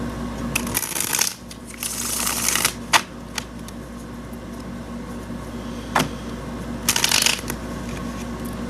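Tarot cards shuffled and slid around on a table, with soft rustles and a few brisk riffling bursts, close and moderately quiet, no talking.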